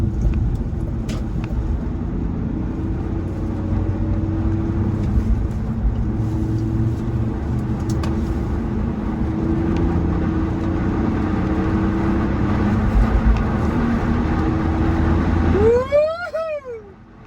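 A BMW E46 330i cruising at freeway speed on new tires, a steady close engine drone and road rumble filling the cabin for most of the stretch before fading near the end, with no talking.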